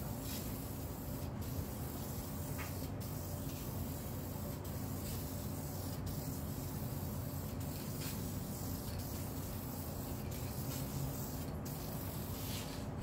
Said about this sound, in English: I'm going to be using Minwax's aerosol lacquer